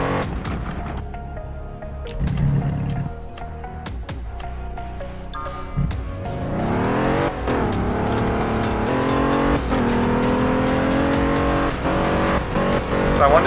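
Simulated race car engine from a Roblox driving game, a loud rising whine of revving and acceleration with tire-squeal and scattered clicks, building steadily louder into a sustained high drone for the latter half.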